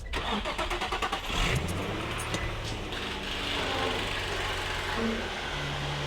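A Nissan VQ35DE engine cranks and fires up after a valve cover replacement, a quick burst of starter whir giving way to a steady, close idle hum that holds for several seconds with no talking.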